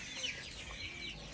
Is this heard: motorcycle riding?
no